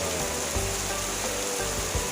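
Heavy rain falls during a fishing outing as a steady, broadband hiss with faint patter on a nearby surface, quiet and continuous with no voices.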